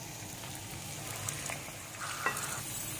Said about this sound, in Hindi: हरी मिर्च और लहसुन अदरक को भून लेने के बाद यहाँ पर डालेंगे हम कलेजी।